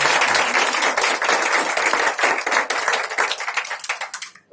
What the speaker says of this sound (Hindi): हम पिता पुत्र पवित्र आत्मा के लिए जोरदार ताली मार कर